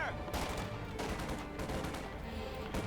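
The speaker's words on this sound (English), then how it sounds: "More bazooka shots going through there, the Panzer 4." Bazooka shots and gunfire sound out in a Company of Heroes 2 battle against a Panzer IV, coming as several loud bursts over a dense, continuous combat din.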